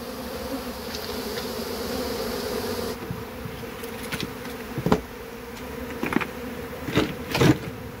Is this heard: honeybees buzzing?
yes